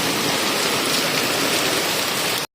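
Heavy rain lashing down during Super Typhoon Yagi in Macau, a loud, unbroken roar of falling water that cuts off abruptly at the end.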